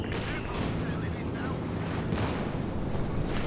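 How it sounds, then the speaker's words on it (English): A precision artillery barrage in Company of Heroes 2 lands in a dense, continuous rumble with sharp booms at intervals, loud and close, under a voice speaking. "Some big artillery coming down. Precision barrage."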